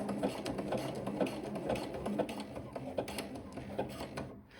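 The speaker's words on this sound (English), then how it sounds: "We gently sew over the thick seam at the beginning." A sewing machine stitches an elastic waistband slowly over a thick jersey seam on an asymmetrical skirt, giving a steady, rhythmic mechanical whir with repeated needle clatter throughout, close up and with no talking.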